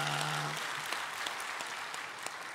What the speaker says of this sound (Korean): 오늘 이 귀한 예배를 허락해 주신 하나님 앞에 감사의 박수를 드립시다.